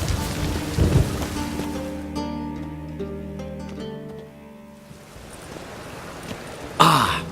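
Steady rain patters throughout with a low rumble, broad hiss and a brief louder burst near the end; no voices.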